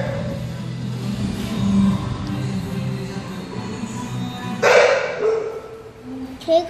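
Dogs bark and yip in short bursts, mostly toward the end, amid steady background noise and a person talking nearby.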